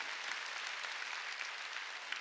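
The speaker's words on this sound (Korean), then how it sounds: "깨달은 사람 박수 치라고요." Applause from a church congregation during a Sunday worship service, a steady dense patter of many hands clapping that fills the whole moment with no voices on top.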